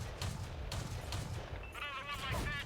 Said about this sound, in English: I love the sound of the Bofors